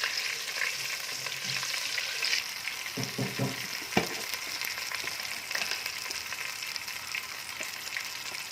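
About a teaspoon of cumin seeds sizzling and crackling in hot oil for a besan khandvi salan, a steady close frying hiss with brief stirring clatter partway through.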